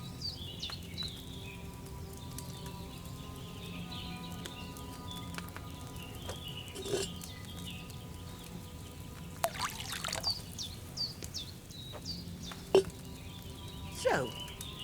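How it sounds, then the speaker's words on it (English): Wine pours into a cauldron in Kingdom Come Deliverance 2, a faint, quiet trickle under low ambience, with soft bird calls and scattered brief knocks and sounds around it. "Don't worry, I poured wine in there."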